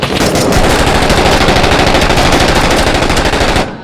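Sustained automatic gunfire rattles in the video game Six Days in Fallujah, a loud, close, rapid stream of shots that continues unbroken for several seconds and then cuts off.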